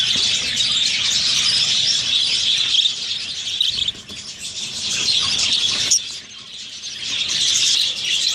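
Caged budgerigars, a breeding setup with adults and chicks, keep up a dense, loud chorus of high chirps and squeals, nearly continuous, with a couple of short dips.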